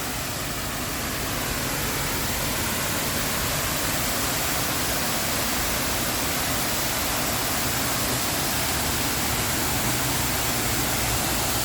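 The Fountain of Wealth waterfall at Suntec City, Singapore, pours with a loud, unbroken rush of falling water that stays even throughout, with no talking.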